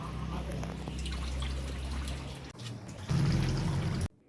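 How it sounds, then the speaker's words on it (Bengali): Fish is rinsed under running water, a steady trickle and splash that shifts to a louder, fuller pour partway through before cutting off abruptly. "আজকে মাছ আমি ধুয়ে পরিষ্কার করে নিই।"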